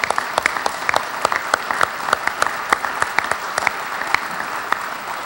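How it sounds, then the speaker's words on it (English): An audience at a university staff breakfast applauds the senators, with many hands clapping in a steady, crisp patter that fills the room and holds at an even level throughout. "Let's give them a round of applause if we can."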